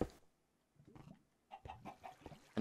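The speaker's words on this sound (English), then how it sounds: "Another chicken in this cave." Minecraft-style chicken in a cave giving a few short, close clucks in separate bursts with quiet gaps, with a sharper burst at the very end.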